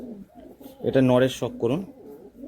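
Male pigeons, Andhra, Kalanka and Chennai Kalduma high-flying breeds, give low, close cooing calls, partly masked by someone speaking loudly nearby.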